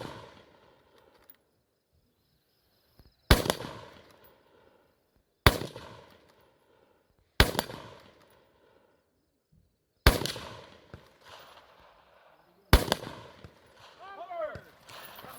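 Five sharp, loud rifle shots from a bolt-action gun fired prone at a spinner target ring out a few seconds apart, each decaying quickly into quiet, with a metallic ring after the last.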